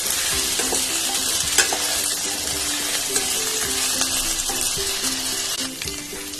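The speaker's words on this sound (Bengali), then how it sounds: "আলু লাল লাল করে ভাজা হয়ে গেছে" Potato pieces frying in mustard oil in a kadai give a loud, continuous close sizzle with constant crackle and the occasional scrape of stirring, steady throughout with no voices.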